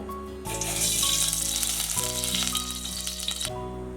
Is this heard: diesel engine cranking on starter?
no